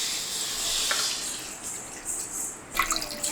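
Half a litre of milk poured from a cup for a muskmelon milkshake, a steady soft liquid hiss running throughout with a brief splashier burst near the end, no voices.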